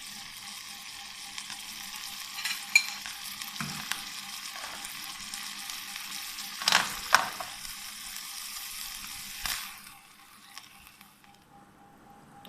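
Chicken pieces frying in a pan for a chicken jalfrezi, a steady moderate sizzle with a few louder crackles and stirring knocks, fading quieter toward the end.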